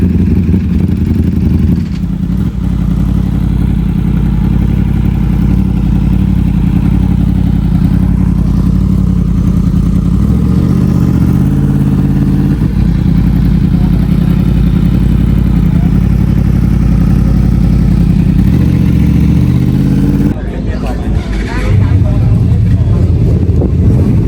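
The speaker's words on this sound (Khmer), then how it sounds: "មានទាំងម៉ូតូតូចមានទាំងម៉ូតូធំមានទាំង Vespa មានទាំង ATV" A group of Cambodian girls rides small and large motorcycles, Vespas and ATVs together, giving off a steady low engine drone that rises and falls a little, with a voice talking over it.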